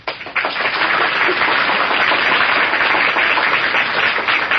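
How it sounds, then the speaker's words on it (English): A studio audience applauds the cast of a 1938 Shadow radio drama, the dense clapping loud and sustained from start to finish, with no voices. "let's all take Agnes Moorehead's suggestion and give the cast the volume of applause they deserve"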